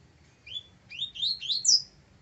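A double-collared seedeater (coleiro) sings a short, bright phrase of quick rising whistled notes that grow louder toward the end, close and clear over a faint low background.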